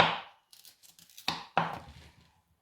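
Lemongrass and chilies being chopped with a knife, a few sharp cuts on a board with crisp, crackly texture, close and fairly quiet, separated by brief pauses.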